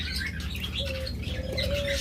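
Pet birds such as lovebirds, budgerigars and cockatiels at a bird sale give busy overlapping chirps and tweets, with a thin sustained whistle-like call later, over a steady low background hum.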